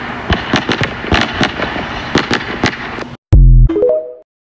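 Fireworks burst in a rapid, loud barrage of crackling explosions during a grand finale display, then a sudden cut, one heavy boom, and a descending whistling tail that fades out.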